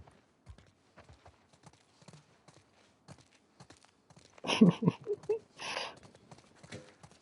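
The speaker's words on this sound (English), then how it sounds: "Let's get back to the horses." Horse hooves clip-clop in the video game The Last of Us Part II, a sparse series of soft, steady hoofbeats at walking pace, with a louder burst of snorting or movement near the middle.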